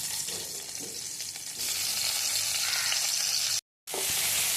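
Green and dry red chilies with tomato frying in a pan for gongura chutney, a steady loud sizzle with a brief pause before it resumes louder.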